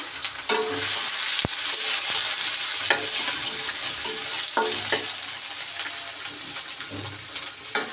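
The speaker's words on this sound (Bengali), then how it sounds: "পেঁয়াজ কুচি দিয়ে দিলাম মাংসের জন্য। এখন এটাকে লাল করে ভেজে নিব।" Chopped onions sizzle steadily in hot oil as they brown for meat in a biryani, with scattered clinks and scrapes of stirring throughout, close and continuous.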